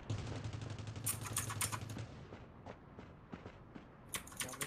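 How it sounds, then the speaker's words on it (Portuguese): Rapid bursts of gunfire in the mobile game Rules of Survival, a sustained volley followed by scattered single shots and a final flurry, with background game ambience. "Tô tomando tiro aqui, não tô vendo o cara"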